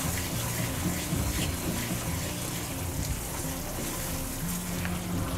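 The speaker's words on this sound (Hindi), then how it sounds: "इलायची का पाउडर और घी को हमने अच्छे से मिक्स कर लिया है" Ghee and cardamom powder being mixed into khoya in a pan give a steady, close sizzling and frying hiss, continuous and fairly even throughout with no voices.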